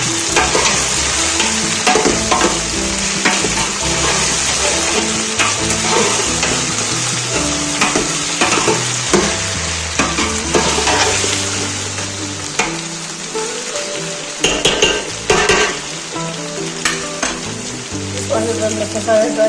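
Sliced masala bhindi (okra) sizzles and crackles steadily in a hot pan while being stirred, a loud, close, continuous frying hiss broken by scraping strokes.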